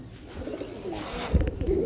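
Pigeons coo at a busy pigeon market in Bangladesh, low throaty calls repeating close by over a background murmur, with no speech.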